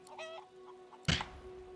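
A voice actor mimics a chicken's clucks in Divinity: Original Sin 2, a few soft bawks followed by one louder sharp squawk near the end, with a low steady game hum underneath.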